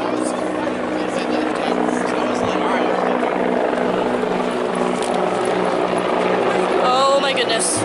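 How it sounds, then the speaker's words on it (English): Helicopter passing overhead in Montreal, a steady loud rotor drone with a low pulsing throb holding across the whole stretch, with some background voices and a brief chirp near the end. "There's a helicopter."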